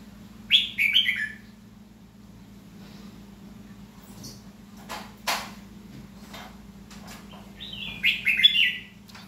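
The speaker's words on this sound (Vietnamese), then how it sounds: "mỗi lần hót cái nó phồng cổ ra ghê chưa" A caged red-whiskered bulbul sings two short bursts of bright chirping notes, near and clear, separated by quiet and a few clicks over a low steady hum.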